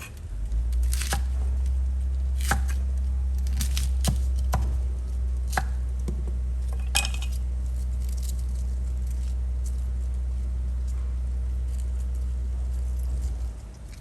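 A knife chops cabbage on a board in a burst of sharp, irregular cuts, close up, over a steady low hum, then the chopping stops.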